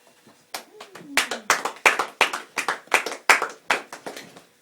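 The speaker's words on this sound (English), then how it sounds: "This one deserves a clap." A few people clap their hands at the close of a lesson, sharp irregular claps building to a steady rhythm, with a brief voice near the start.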